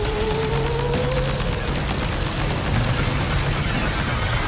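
Dense, loud, continuous gunfire and booming blasts aimed at a kaiju in Death Stranding 2, filling the whole stretch with a rough, crackling roar.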